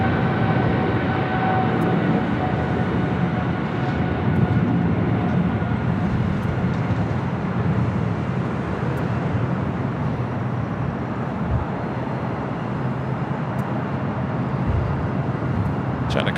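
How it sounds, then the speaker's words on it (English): A China Cargo Boeing 777 freighter takes off from runway 25 right at LAX, producing a continuous broad roar of jet engines with low rumble that holds steady for a long stretch, heard from a distance with no talk. "777 freighter taking off, 25 right"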